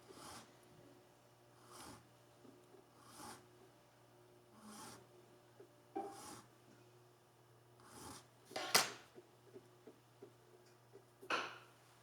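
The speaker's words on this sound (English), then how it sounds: "I'm going to go into a slightly larger file and open this up." Round file rasping inside the string slots of a violin nut, heard as a series of short, quiet strokes at a steady pace with a few sharper scrapes, close and intimate with no talking.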